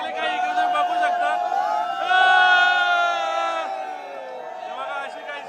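A lively crowd of young men at the Ekvira Aai palanquin procession of Kalyan Koliwada shouts and cheers together, a dense wall of overlapping voices with rising chants, loud and close throughout.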